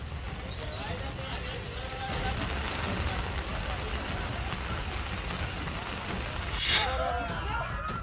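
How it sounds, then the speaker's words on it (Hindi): Torrential monsoon rain pours down over flooded streets in Nadiad, Gujarat, a dense, steady hiss of heavy rainfall with splashing water throughout, and a voice talks over it. "जहां हो रही मूसलाधार बारिश की वजह से सड़कों पर सैलाब आ चुका है।"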